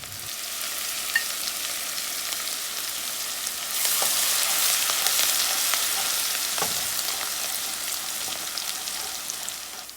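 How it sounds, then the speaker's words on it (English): Garlic and finely chopped green chili drop into light-brown frying onions for a paneer masala, setting off a steady broadband sizzle that swells louder midway with occasional soft clicks, no voices. "Now I'm adding the garlic and the green chili finely chopped."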